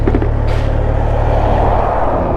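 Steady heavy traffic of lorries on a highway, a loud continuous low rumble with a brief whoosh as one passes close by.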